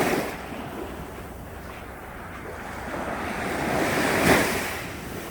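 Winter sea waves wash onto a quiet sandy beach at Geumjin, swelling into one louder breaking surge near the end, with steady wind noise over the surf and no voices.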